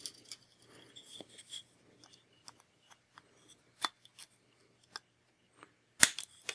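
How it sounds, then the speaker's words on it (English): Scissors or wire cutters snip off excess silver wire after coiling it for handmade earrings, giving a few sharp, close clicks and snips scattered through a quiet room, with one louder snap near the end. "Cut off the excess."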